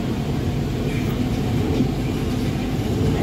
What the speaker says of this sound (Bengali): এবার আমরা ধীরে ধীরে মেট্রো রেল মানে পাতাল রেল ওখানে আমরা যাবো